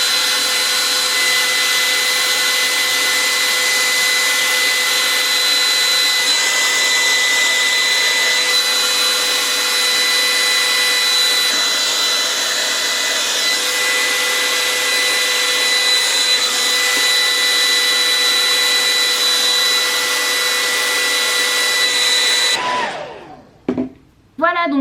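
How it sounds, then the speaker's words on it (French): A hair dryer blows steadily on hair for about twenty-two seconds, a loud close whirring roar with a constant whine, then it cuts off abruptly and a few brief handling knocks and rustles follow. "je vais d'abord au préalable sécher mes cheveux"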